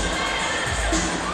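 A tense crowd at a WPIAL high school boys basketball game between Gateway and Laurel Highlands gives off a dense, loud, continuous roar of voices and shouting.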